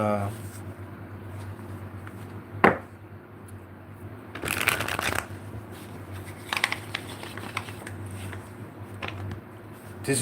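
A deck of tarot cards is shuffled by hand in a live reading session, with riffling and flapping bursts, one sharp crack, and a longer flurry midway, close and fairly loud, while someone talks over it.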